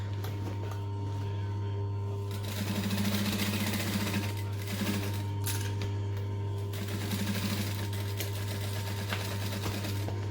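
A sewing machine backstitching a backpack runs in short bursts of rapid, even needle chatter over a steady hum, close up, and pauses briefly between passes.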